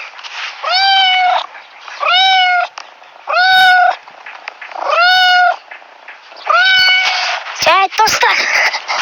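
A house cat gives a series of five or six loud, close meows at a steady rhythm, each a clear drawn-out call with short pauses between, ending in a few quicker, rougher cries.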